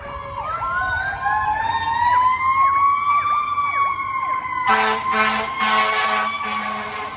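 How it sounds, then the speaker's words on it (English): A fire truck siren wails past a park in Lancaster, loud and close, its pitch sweeping up and down before switching to a rapid yelp pattern with a horn-like blare, over constant traffic rumble. "And here comes the fire truck."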